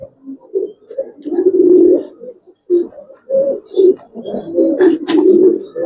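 Silver Giribaz pigeons cooing up close, a run of low throaty rolling coos that rise and fall in bursts with short pauses between, loud and clear against a quiet background.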